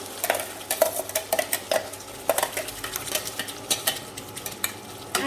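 A spoon scrapes and stirs a ground onion-tomato paste sautéing in oil for Chettinad egg kulambu, with rhythmic metallic clinks against the pan over a soft sizzle, close and alone.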